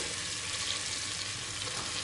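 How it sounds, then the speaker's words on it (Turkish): A soft, steady sizzling as flour toasts in melted butter over medium heat, close and even, with no voices. "Ve unun kokusunu çıkana kadar kavuruyorum."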